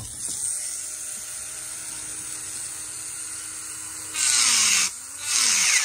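A rotary tool fitted with a ceramic bit carving a seahorse into an Opinel knife handle, a steady high whine close up, with two louder bursts as the bit bites in toward the end.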